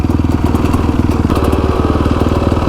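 A Honda CRF 450X supermoto motorcycle runs steadily and loud up close, its rapid engine pulses forming a continuous thumping drone with a brief dip partway through, no one speaking.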